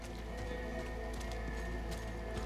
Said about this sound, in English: Some dude on a horse.